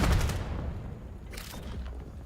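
A grenade goes off in the VR shooter VAIL during a competitive match, a sharp close boom at the start followed by a few quieter gunshot-like pops.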